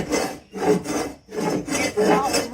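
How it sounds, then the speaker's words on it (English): A garden hoe scraping old paint off a porch, heard as repeated rough rasping strokes in an uneven rhythm with brief pauses between them, close and fairly loud. "I'm still scraping with my hoe."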